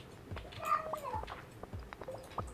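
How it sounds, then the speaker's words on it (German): A cat in the video game Stardew Valley meows a few times in short, tonal cries over a soft background of clicks and rustles. "unsere Katze will spielen"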